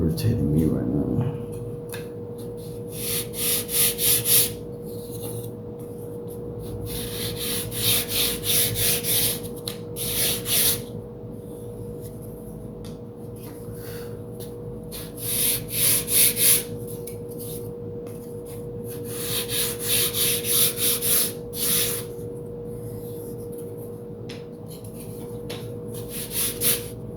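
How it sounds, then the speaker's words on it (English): Light hand sanding on wood during a giant-scale P-47 Razorback model airplane build, heard as repeated rhythmic rubbing strokes in bursts over a steady air-conditioner hum, with no talk. "That was just my light sanding"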